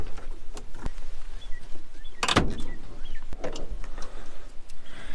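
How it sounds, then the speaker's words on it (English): The hood of an old Mercedes, parked for twenty years in a garage, is popped open: a sharp metallic clunk and release mid-stretch, with a few smaller clicks and rattles before and after. "So let's pop the hood and see what we got."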